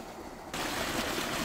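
A safari vehicle in Marakele National Park drives into water, a steady broadband wash and splash starting abruptly and continuing close by without talk.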